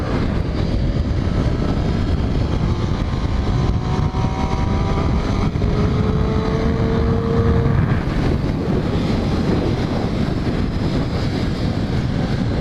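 Motorcycles, including an Aprilia, race counterclockwise around Thompson Speedway in Connecticut; a steady roar of engines and heavy wind rush fills the whole stretch, with a rising engine whine passing through the middle and no talking.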